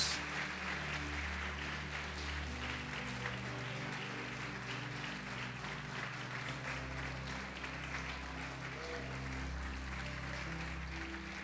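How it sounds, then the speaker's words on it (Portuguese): A church congregation claps in praise during a sermon, with faint, steady applause running throughout under sustained organ-like music, fairly distant and soft. "Pode aplaudir o Senhor e glorificar a Deus."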